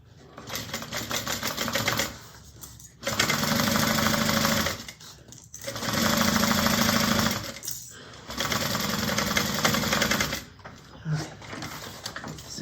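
A sewing machine stitches a bag in four bursts of fast, buzzing needle action, separated by short pauses, close and fairly quiet.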